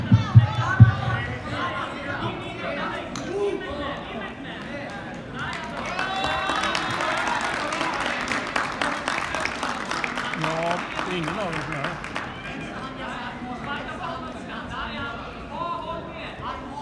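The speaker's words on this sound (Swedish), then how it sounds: "En varm applåd." Audience applause at a Brazilian jiu-jitsu tournament medal ceremony at Haninge BJJ Open, a steady spread of clapping from a crowd in a hall, moderate and a little distant, with an announcer's voice over it.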